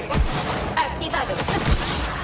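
Rapid gunfire from the video game Borderlands 3, a few sharp shot bursts mixed with low booms and dense game noise, with a character's voice speaking over it.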